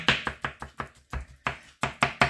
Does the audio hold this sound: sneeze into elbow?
no